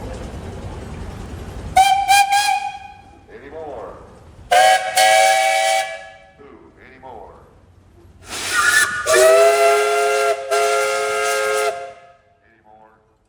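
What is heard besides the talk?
steam tractor whistle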